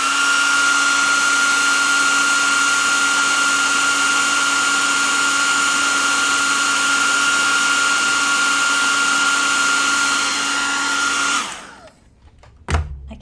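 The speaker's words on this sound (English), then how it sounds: "we can use our blow dryer again." A handheld blow dryer runs close and steady as it dries watercolor paper, a loud continuous whirring hiss for about eleven seconds before switching off, followed by a few faint clicks and handling sounds.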